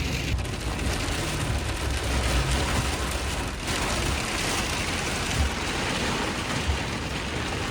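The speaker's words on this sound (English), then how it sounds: "show you the rain" Steady, dense rain pours down near an off-grid log cabin in the woods, a constant heavy hiss with no break and no voices.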